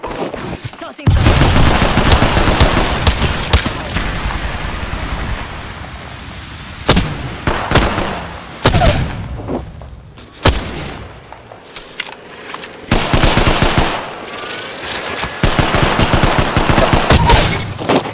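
Heavy automatic gunfire from an Apex Legends match, loud bursts and sustained volleys with brief pauses between exchanges.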